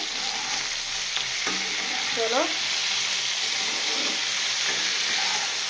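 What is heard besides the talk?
cauliflower frying in oil with salt and turmeric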